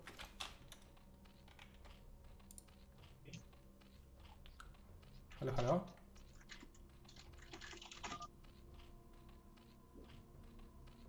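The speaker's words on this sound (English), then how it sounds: "I can hear your keyboard" Computer keyboard typing during a StarCraft Remastered match broadcast, a steady run of light clicky keystrokes heard faintly in the background with a brief louder burst partway through; a voice briefly speaks.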